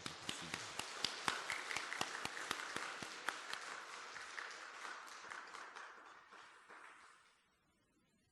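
A church congregation claps for the choir after a Wednesday morning service, a dense run of applause with sharp individual claps standing out early, then thinning and fading to quiet near the end.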